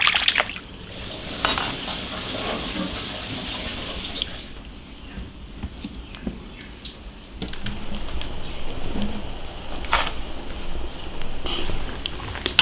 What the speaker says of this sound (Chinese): 牛肉牛筋冷水下锅，葱、料酒去腥。